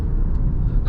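A 2024 Alfa Romeo Stelvio Veloce SUV on the move: steady low road and engine rumble, continuous and fairly loud, with a brief rise of hiss near the end.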